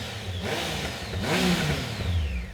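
A previous-generation Triumph Speed Triple motorcycle engine revs up twice nearby, its pitch climbing and falling with each throttle blip, then settles to a steady rumble, with no talking.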